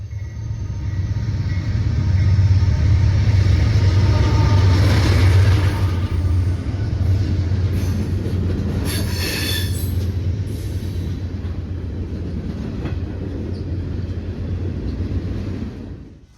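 Westbound freight manifest train rolling past on track 2 at Elkhart, a heavy, steady low rumble with a high wheel squeal midway, loud and close, slowly fading toward the end.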